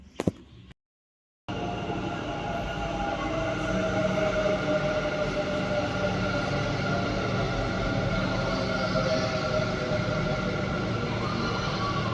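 Loud steady rumble of a metro train rolling in, with a sustained whine and humming tones, no voices.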